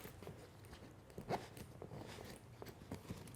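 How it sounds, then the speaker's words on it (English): Zippers on a Peak Design Travel Backpack 45L slid along the main compartment's back and front access, giving short rasping pulls and soft handling rustles close up. "I'm going to move my zippers to the top for both the back access and the front access."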